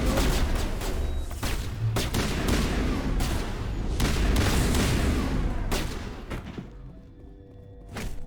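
Rapid gunfire in the Mass Effect 1 Legendary Edition firefight inside a lab, with dense bursts of shots and heavy thuds over several seconds, easing off near the end and then one final shot.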